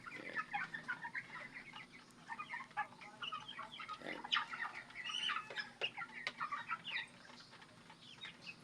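Rhode Island Red chicks cluck and chirp continuously as they are fed madre de agua leaves, a busy, fairly close flock chatter with scattered sharper peeps and no talking.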